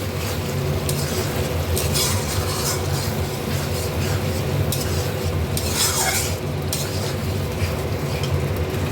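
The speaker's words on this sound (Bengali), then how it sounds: "একটা ছোটো টমেটো পেস্ট করে রেখেছি, এটাও দিয়ে দিলাম। এবার এটাকে আমি ভালো করে কষাবো।" Green chillies, ginger and tomato paste are sautéed in a pan for a tangra fish curry, giving a constant close sizzling hiss with occasional spatula scrapes and stirring, without speech.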